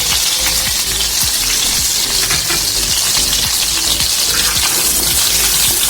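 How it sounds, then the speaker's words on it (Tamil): Cashews and other nuts roast in hot ghee in a kadai for carrot halwa, giving a loud, steady sizzle with faint ticks of stirring throughout, no voices. "நட்ஸு வந்து நல்லா ஒரு வாட்டி கீழே வதக்கிக்கலாம்."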